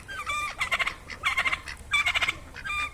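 A turkey gobbles in quick, rattling bursts beside two fighting roosters, three or four clear rounds close by with short gaps between them.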